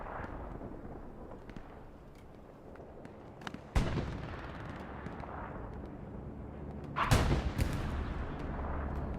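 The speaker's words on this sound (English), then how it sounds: "Tanker is firing some supporting rounds. I think Red 8 may get obliterated from the bombing run." A tank fires supporting rounds and a bombing run strikes during a Hell Let Loose match on the Utah Beach map, with two heavy, loud booms rising over a constant rumble of distant battle and no voices.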